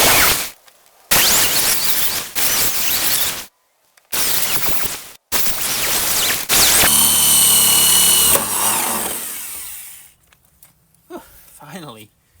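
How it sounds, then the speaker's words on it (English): A power drill bores a hole in metal while a racing mower is built from scratch, running in several loud, repeated bursts with short pauses, then a long sustained whine that winds down to quiet. "Those things are darn hard to drill."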